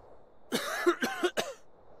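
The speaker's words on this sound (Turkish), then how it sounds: "Oğlum bu niye öksürüyor?" A character in the video game DayZ coughs three times in a quick, close, raspy burst, each cough sharp and separate against a quiet background.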